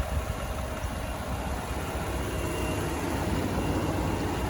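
A 2017 Ford F-150 FX4 with the EcoBoost engine runs steadily at idle, giving a constant low hum and broadband noise with no change in level throughout.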